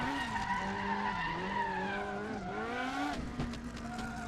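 A car drifting in the racing game Assetto Corsa, engine revving with rising and falling pitch under a sustained tire squeal, then a quick burst of gear shifts and crackles near the end.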